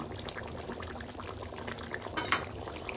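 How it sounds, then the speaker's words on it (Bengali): Chicken curry bubbling in a pot on the stove, a soft continuous simmer with small pops and gurgles and a brief louder burst near the end. "রান্না চলছে, সিদ্ধ হতে আর একটু সময় লাগবে।"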